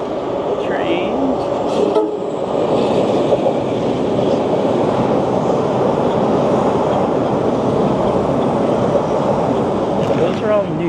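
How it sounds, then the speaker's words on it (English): A new Boston Orange Line subway train roars past close by along Southwest Corridor Park, a continuous loud rumble with faint squeals and clanks throughout. "Here's an Orange Line train."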